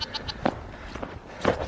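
Several goats bleat in short, nasal cries, a few calls spaced out over a moment, fairly close.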